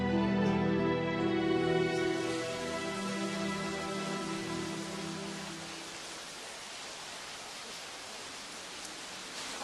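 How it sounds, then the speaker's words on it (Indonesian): Steady rain falls on a roadside, a dense hiss of drops that stays constant throughout, with a low sustained tone fading out in the first half. "pakai hujan segala lagi"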